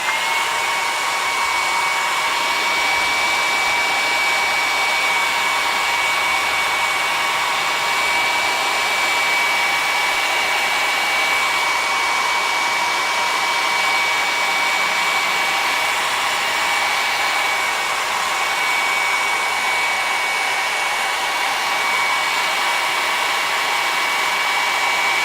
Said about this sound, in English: take your hair dryer or your heat gun. Heat gun will not take as long as this, but this does work, and start heating it up